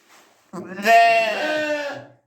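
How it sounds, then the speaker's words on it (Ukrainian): Sheep and lambs bleat in a pen on a small farm in western Ukraine, a brief faint call followed by one loud, long, wavering bleat close by. "Ось ягнята і вівці, поки що вони в загоні, тут так прохладно, класно."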